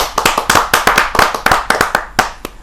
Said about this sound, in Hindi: डॉक्टर ज्योति उपाध्याय, जरा जोरदार तालियों के साथ हम उनका स्वागत करें।